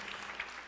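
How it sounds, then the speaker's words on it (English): Audience applause after a dance performance, dense steady clapping from a crowd, heard as a brief continuous burst. "let's first give a round of applause to our first two companies"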